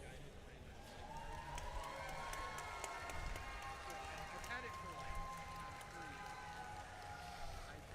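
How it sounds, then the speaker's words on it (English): A large crowd at an FRC robotics competition event in Rochester, NY, cheers for the Red Alliance, making a steady, dense roar of shouting and noise throughout with some whistles on top. "I want everyone who's cheering for the Red Alliance to make some noise."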